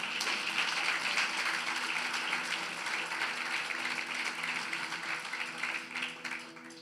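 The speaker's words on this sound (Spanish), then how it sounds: "Dele un aplauso al Señor." A church congregation at a Spanish-language worship service applauds together in sustained, dense clapping that carries on steadily for several seconds without speech.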